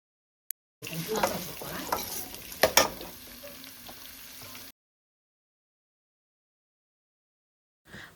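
Hot oil sizzles while a spoon stirs the tempering for patrode in a pan, a close, busy frying hiss with a couple of louder scraping knocks, lasting about four seconds before cutting to silence.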